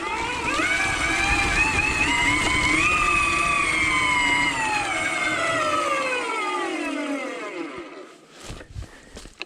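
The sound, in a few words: Electric Motion Escape R electric motorbike motor resisting with regen braking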